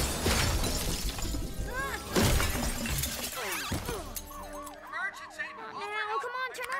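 A bulletproof glass window shatters in a burst of cracking and breaking, followed by sirens wailing and people talking in an animated home-invasion scene.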